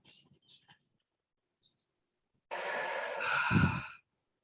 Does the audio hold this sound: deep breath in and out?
yes